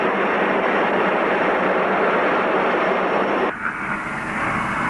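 A jet roars loud and steady as an F-4E Phantom with slatted wings flies. The broad roar drops abruptly in tone partway through.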